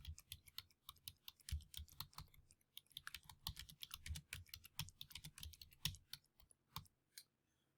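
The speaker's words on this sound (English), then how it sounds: "we're going to type career growth in the text section" Steady, rapid keystrokes on a computer keyboard as text is entered in a word processor, close and clear, continuing for several seconds with brief pauses and no talking.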